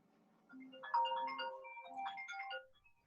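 A synthesized phone ringtone plays a bright, melodic electronic tune of stepped tones that repeats once, fairly quiet and alone.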